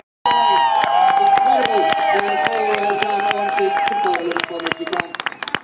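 Applause and cheering from a crowd at a World Superbike race podium ceremony, with clap transients and whoops over a sustained tonal backdrop, loud and continuous before thinning out toward the end.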